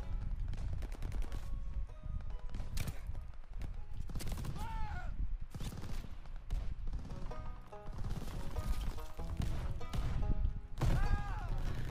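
Repeated heavy shots from a PTRS-41 anti-tank rifle in Call of Duty Vanguard, mixed with other gunfire, thuds and impacts, crack out in quick irregular succession throughout a busy, loud multiplayer firefight.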